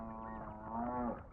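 A buffalo lows once, a long, close, resonant moo that rises and holds before cutting off, heard alone without talk.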